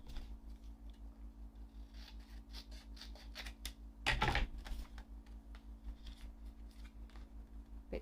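Scissors snipping through paper card while making a papercraft pocket, a quiet run of small crisp cuts with one louder crunchy snip in the middle, close and without talk.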